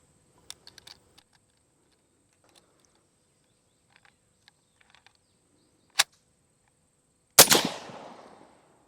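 A single loud, sharp M1 Garand rifle shot cracks out near the end of an outdoor live-fire test and rings away in a decaying tail, following faint small clicks and one brief metallic snap.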